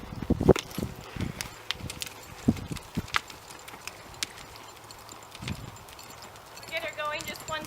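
A horse lopes down an arena, its hoofbeats landing in an irregular rhythm of thuds at moderate distance while a rider talks over them.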